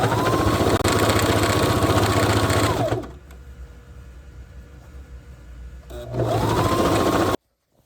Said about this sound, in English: So now I'm sewing up the sides of that I left open after I folded over